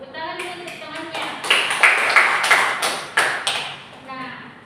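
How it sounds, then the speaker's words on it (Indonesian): A classroom of students gives a short burst of hand-clapping for a classmate, with crisp, uneven claps swelling then tapering off while voices talk over the applause. "Tepuk tangan untuk temannya"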